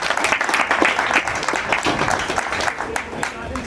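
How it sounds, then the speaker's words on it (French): Audience applause fills a room at an association's second-anniversary gathering, a steady wash of many hands clapping throughout, fairly loud and close. "j'aimerais que vous acclamez pour cela"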